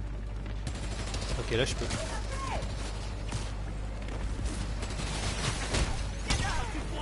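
Rapid gunfire in the Spider-Man: Miles Morales video game, bursts of shots rattling over a busy rooftop battle soundscape while someone speaks briefly.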